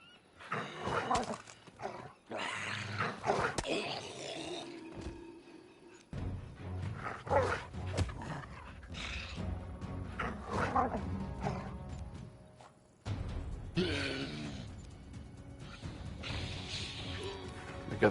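Summoned dogs bark and growl during a fantasy battle in the video game Pathfinder: Kingmaker, mixed with roars, crashes and weapon hits in bursts of combat noise.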